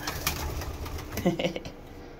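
Racing pigeons coo softly nearby in short low murmurs, with faint background noise and a bit of speech.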